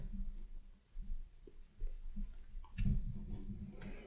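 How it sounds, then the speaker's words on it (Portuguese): A few light clicks sound from a computer keyboard as the Enter key is pressed during Power BI work, quiet against a faint room background. "Dou um Enter."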